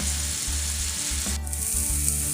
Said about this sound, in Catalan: hi hem incorporat el tomàquet i l'api. Ara sí que tapem i deixem coure fins que tot estigui ben punxat.